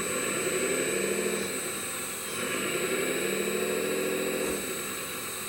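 A radio-controlled wheel loader's small engine runs steadily, a continuous mid-pitched drone with a buzzing whine that rises and strains as the boom lifts, swelling twice and settling back, with no voices.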